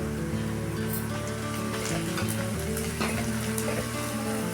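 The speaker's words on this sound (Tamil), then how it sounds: "கொஞ்சம் கருவேப்பிலை ஆட் பண்ணிக்கலாம்" Curry leaves dropped into onions frying in oil for a South Indian anchovy fish curry, giving a steady, dense, close sizzle that crackles throughout with occasional stirring scrapes and no voices.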